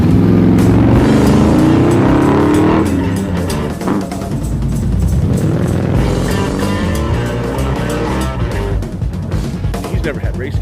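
A hard-launching drag car running a 93 Big Blue setup, its engine roaring loud and close as it accelerates through the gears, with people talking over it.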